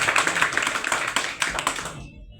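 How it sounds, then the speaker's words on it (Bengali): A room full of people claps loudly for newcomers at a group gathering, a dense wash of hand claps that holds steady for about two seconds before stopping abruptly. "আমরা নতুনদের জন্য একটা জোরে করতালি প্রত্যাশা করি।"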